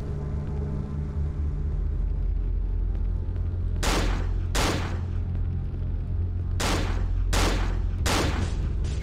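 Gunfire in the horror video game Cry of Fear, with five sharp broadband bursts over a steady low game rumble, two close together and then three more in quick succession.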